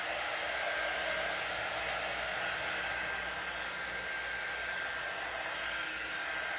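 A hair dryer blows steadily and close while drying a painted watermelon popsicle door hanger craft, a constant loud airy hiss and motor whine with no pauses.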